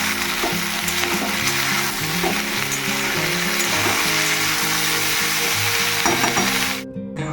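Food fries in hot oil with a pinch of salt in a home kitchen. A loud, steady sizzle is joined by stirring scrapes, and it cuts off abruptly near the end.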